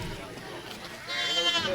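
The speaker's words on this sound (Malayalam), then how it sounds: "പിന്നെ ഒരു കൂട്ടം ആട് ഇവിടെ ഉണ്ട്." Goats bleat at a wholesale goat market in Kerala, a short wavering cry rising near the end, mixed with someone talking and general crowd noise.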